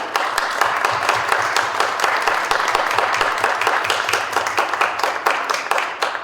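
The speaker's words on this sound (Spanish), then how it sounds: "primero un fuerte aplauso, por favor, para ella" A crowd applauds steadily for several seconds, dense overlapping claps at a constant loud level with no pauses.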